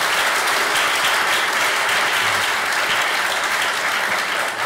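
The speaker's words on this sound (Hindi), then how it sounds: "मतलब कोई अगर आगे आया तो तालियां जोरदार होनी चाहिए।" Loud, dense applause from a large group of students in a coaching class, sustained evenly throughout at close range with no pauses or speech.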